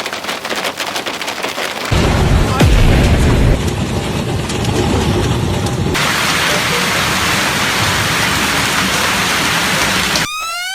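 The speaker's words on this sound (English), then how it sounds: "Then ice slammed into the streets. The hail came hard and heavy, with some stones as large as rice balls." Hail pounds the streets during a heavy storm in Sichuan, a dense, continuous roar of ice hitting hard surfaces that swells louder after the opening seconds and keeps up a steady hiss of impacts throughout.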